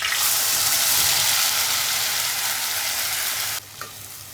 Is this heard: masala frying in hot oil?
yes